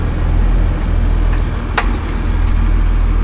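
A tractor pulls a heavy manure spreader forward, a steady loud low engine drone running throughout with a brief sharp clank partway through.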